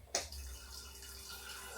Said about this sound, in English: let's put a little bit of water